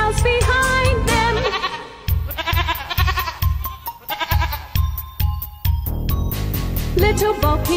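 Sheep bleat repeatedly over a bouncy nursery-rhyme music track, the wavering animal calls rising above steady percussion and instruments throughout.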